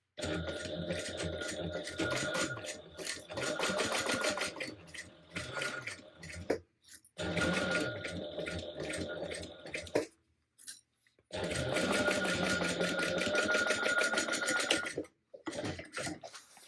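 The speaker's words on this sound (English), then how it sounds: "Now we're going to sew it 3/8 inch." Sewing machine stitching a 3/8 inch seam on a handbag, running in several long steady bursts with brief pauses between them, loud and close.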